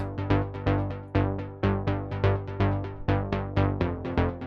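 A bright plucky Diva preset synth bass in a melodic house track plays a rhythmic, repeating pattern of short notes with quick decays, clear and close with no talking.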